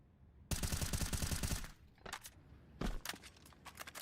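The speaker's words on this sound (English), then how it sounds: "One of the many wall bangs on the new version of Train" Rapid burst of gunfire through a wall in Counter-Strike on the Train map, a dense automatic volley followed by a few separate loud shots and short bursts, close and sharp with no talk over it.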